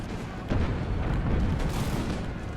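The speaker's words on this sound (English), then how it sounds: "Let's open fire on those Dragoons." Volleys of musket and cannon fire against dragoons in the Imperial Splendour strategy game, a dense continuous rumble of distant gunfire with a heavier boom swelling near the start.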